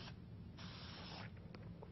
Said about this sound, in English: Now we're going to spray paint our lantern.